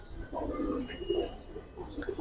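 Giribaz pigeons coo nearby in a few soft, rolling bursts, their low murmuring calls close and moderately loud with light background noise.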